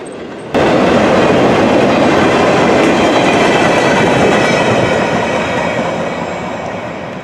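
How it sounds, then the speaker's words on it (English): A CSX or NS manifest freight train rumbles past close by at the Fostoria Iron Triangle diamond, a loud, steady roar with rhythmic clattering wheels that eases slightly as the last cars go by. "as the end of the train passes me here."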